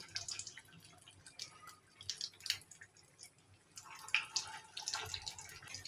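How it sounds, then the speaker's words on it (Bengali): A small mini mughlai paratha frying in hot oil gives a faint, irregular sizzle and crackle of popping bubbles, quiet and close, with no voices over it. "এখন আমি একটা ছোট্ট মংলাই নিব আর আমি তেলের মধ্যে ছেড়ে দিই"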